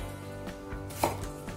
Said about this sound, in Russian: Картошку нарезаем удобными вам кубиками.